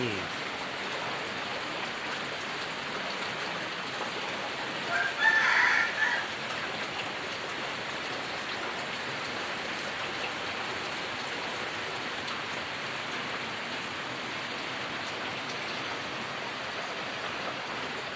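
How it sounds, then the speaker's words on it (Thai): Steady rain pours continuously at a home in Rong Kwang district, Phrae province, Thailand, a dense even hiss filling the scene throughout with no voices. "ฝนก็จะตกประมาณนี้นะครับ"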